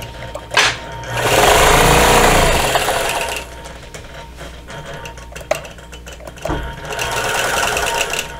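A sewing machine quilting a border on a quilt whirs in loud bursts, running fast, pausing, then stitching again in shorter intermittent runs.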